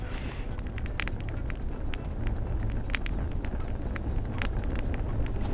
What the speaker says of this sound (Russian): Вот костер уже загудел.